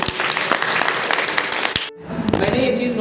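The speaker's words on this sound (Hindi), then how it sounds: "तो एक बार हम लोग अपने लिए एक बार ताली बजाएं" Workshop participants at a district teacher-training institute in Tehri Garhwal, Uttarakhand, clap for themselves in a loud, dense burst that cuts off abruptly, followed by a quieter stretch with a voice.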